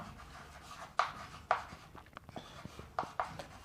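Pen or pencil writing on paper while working a class 10 circle geometry problem, with a few sharp strokes and taps spread over a quiet background and faint rubbing between them.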